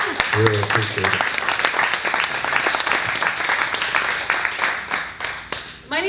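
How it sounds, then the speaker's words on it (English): A seminar audience at an urban golf performance event gives a brief round of applause for the staff, dense clapping running throughout with a voice talking over the start. "give a quick round of applause to the staff back there"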